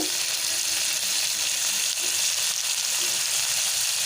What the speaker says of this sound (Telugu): కలర్ వచ్చే వరకు అయితే వేయించుకోవాలి ఆయిల్లో